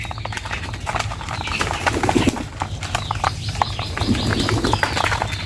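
Pigeons at feeding time, with soft cooing and scattered chirps over a steady low hum, plus repeated light tapping and fluttering close by.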